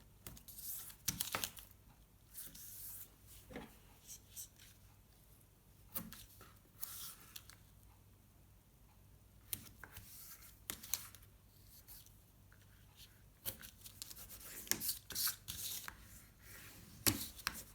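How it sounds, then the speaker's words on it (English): Double-sided tape is handled and pressed onto a journal cover, giving scattered sharp crackles, peels and taps with quiet gaps between them, close by and moderately loud, with no talking. "Now I'm going to attach double-sided tape here and here."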